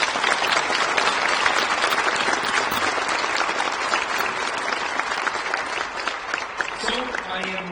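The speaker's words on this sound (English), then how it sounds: "Can we give them a round of applause?" Sustained applause from a large audience at the U.S. Institute of Peace, dense and steady clapping that fills the room for several seconds without letting up.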